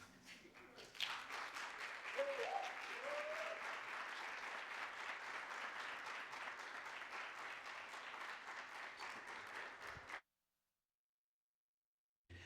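An audience claps at an alumni awards ceremony, the Compass Awards 2025. Loud, steady applause from many hands lasts about ten seconds, with a faint bird coo near the start, then cuts off into silence.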